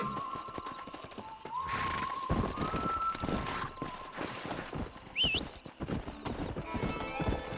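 Rhythmic clip-clop of a video-game horse's hooves trotting, with the horse whinnying partway through, layered over game music and sound effects.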